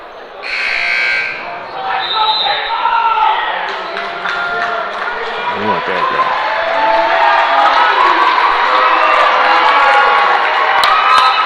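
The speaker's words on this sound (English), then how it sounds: "Michael Pearson taken out of the game to a standing ovation from the crowd." A high school boys basketball crowd gives a standing ovation at Tracy vs Modesto Christian, with a buzzer sounding at the start and then loud, sustained cheering and shouting that grows toward the end as an announcer talks over it.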